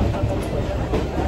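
Train carrying passengers toward CST in Mumbai, a steady, close rumble with faint rail clatter filling the short moment, no talk over it.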